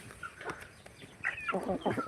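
Free-range desi chickens on a village farm let out a few short clucks and squawks, fairly close and alone against quiet background noise.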